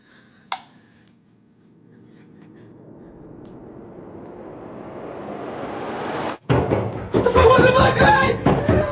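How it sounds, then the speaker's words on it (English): A single sharp knock comes from a basement at night, followed by a slowly rising wash of noise and then voices talking near the end. "the very next night records how knocks are coming from his basement"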